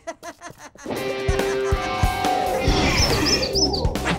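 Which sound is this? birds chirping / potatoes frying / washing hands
birds chirping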